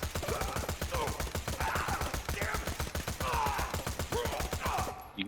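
A Scav SMG in Borderlands The Pre-Sequel fires rapid, steady bursts of gunfire for several seconds, loud and close, before cutting off abruptly at the end.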